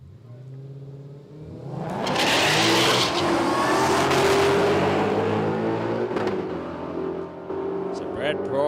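Ford drag race cars, including a Mustang, launch at a dragway test-and-tune session with a loud, rising engine roar and tire noise. The roar swells quickly and holds, heard from a fair distance, with a commentator talking over it.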